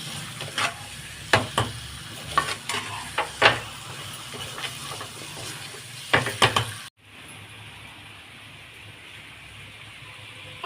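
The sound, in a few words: chicken added to pan and stirred while frying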